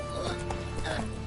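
A horse gallops in the video game The Witcher 3: Wild Hunt, with rapid clip-clop hoofbeats and a voice over them in a brief burst.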